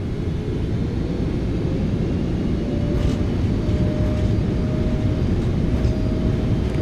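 Reverse thrust roaring on a PMDG 777F freighter's landing roll in a flight simulator, a loud, steady, broadband engine rumble with a faint whine on top, sustained without a break and with no talking.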